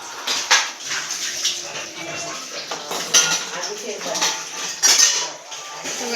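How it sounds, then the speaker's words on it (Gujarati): Dishes, pots and utensils being washed in a home, with close, repeated clinks and clatters of metal and crockery under running water, irregular bursts throughout, and a voice occasionally speaking nearby. "મમ્મી હવે વાસણ ધોવે છે"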